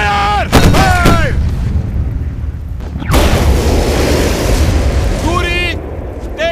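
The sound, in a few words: naval cannons firing in film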